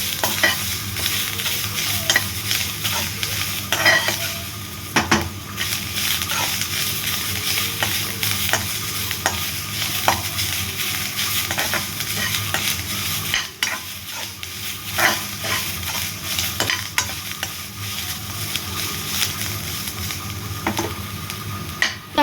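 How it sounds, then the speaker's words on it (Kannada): Ground masala with fenugreek and spinach leaves frying in a pan while being stirred: a continuous sizzle for over twenty seconds, broken by scraping stir strokes and occasional clicks of the spoon, with no voices. "ನಿಮ್ಮ ಹತ್ರ ಏನಾದರೂ ಮೆಂತ್ಯ ಮತ್ತು ಪಾಲಕ್ ಸೊಪ್ಪಿದ್ರೆ ಈ ಟೈಮಲ್ಲಿ ನೀವು ಹಾಕ್ಕೊಂಡು ನೀಟಾಗಿ ಹುರ್ಕೊಳ್ಳಿ"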